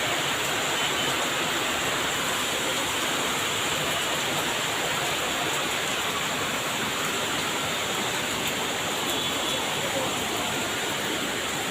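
Heavy monsoon rain pours down steadily outdoors at home, a dense, continuous broadband roar with no let-up, loud and even throughout.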